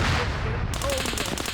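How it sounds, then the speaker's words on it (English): A BMP infantry fighting vehicle in a video game fires its cannon in a quick rhythmic string of heavy thumping shots, loud and close over a constant rumbling background. "that's the BMP firing into this"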